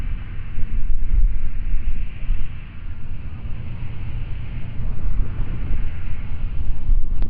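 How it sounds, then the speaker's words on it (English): Strong wind buffets the microphone with a constant low roar and rumble, loud and close, with no voices. "It's a little too windy to do more riskier stuff."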